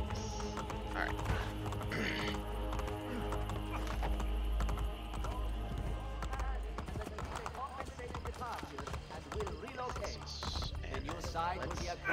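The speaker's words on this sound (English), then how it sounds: "So let's call the horse." Rhythmic horse hoofbeats clip-clop at a quick pace with a short whinny in the video game Assassin's Creed Brotherhood, under someone talking over faint background music.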